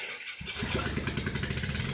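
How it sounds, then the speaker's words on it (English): A Honda GX390 small engine is rope-started: after a brief silence it catches abruptly and settles into a steady, loud, close chugging run with a regular pulsing beat. "Did you know that you can use a rope to start your engine?"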